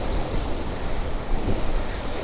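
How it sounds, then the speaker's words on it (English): Ocean waves crash at Cala Millor, Mallorca, a loud continuous wash of surf mixed with wind buffeting the microphone, with no talk. "check out the waves that we have over here in Cala Millor"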